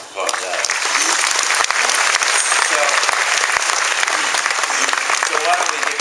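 Audience applause at a panel event, a full sustained round of clapping lasting several seconds, with scattered voices and cheers mixed in.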